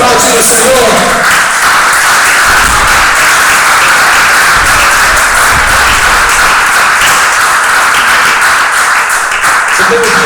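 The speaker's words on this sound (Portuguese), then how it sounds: "Vamos aplaudir o Senhor." A church congregation applauds continuously, with loud dense clapping throughout and voices mixed in.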